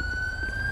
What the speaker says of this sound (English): I'm going to get the siren off.